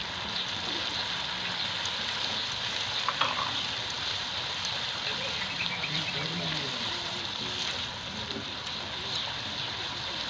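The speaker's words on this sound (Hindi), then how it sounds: "अब हम इसमें सब्ज़ मिर्च ऐड करेंगे। चंद मिनट इसे फ्राई करना है" Beef karahi with green chilies fries in a pan over medium-low heat, giving off a steady, continuous sizzle at moderate volume throughout.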